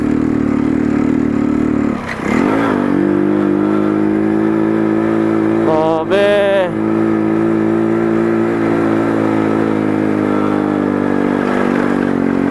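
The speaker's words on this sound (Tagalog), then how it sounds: "This time, kayang-kaya ng ating motorsiklo." A motorcycle climbs a mountain road, its engine loud and close with a steady drone broken by sharp revving bursts and gear changes, while a rider briefly speaks.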